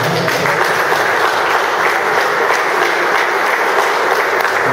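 A plenary gathering of seminary priest formators in Argentina breaks into applause, a loud, continuous and very even roar of many clapping hands that fills the room from start to finish.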